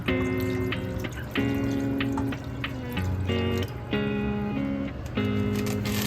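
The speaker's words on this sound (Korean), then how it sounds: "물 700ml를 넣어주세요." Water, 700 ml, pours steadily into a pot for tteokbokki as a continuous close rushing stream, with tonal music playing over it throughout and no speech.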